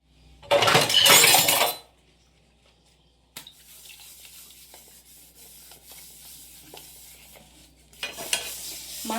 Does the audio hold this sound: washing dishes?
yes